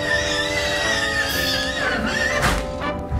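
A horse in Fallout 76 whinnies loudly and at length, a shaky rising-and-falling neigh close by, ending with a breathy snort.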